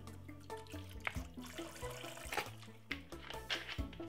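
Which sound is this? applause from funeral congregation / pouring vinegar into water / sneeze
pouring vinegar into water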